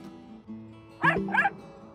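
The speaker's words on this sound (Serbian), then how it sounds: "Pas." A dog gives two short, close yips or whimpering barks in quick succession, standing out against a quiet background with a faint steady hum.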